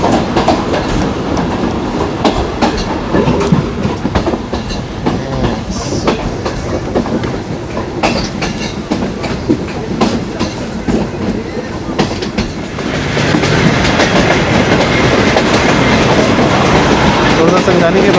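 A Hazara Express train in Pakistan rumbles along with a rhythmic clickety-clack of wheels on rail joints, loud and close, growing rougher and noisier toward the end.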